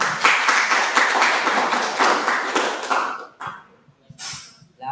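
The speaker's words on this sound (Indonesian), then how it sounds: "Berikan tepuk tangan untuk Freda." Small audience in a classroom clapping their hands, a brisk burst of applause for about three seconds that quickly dies away into a few scattered claps and quiet.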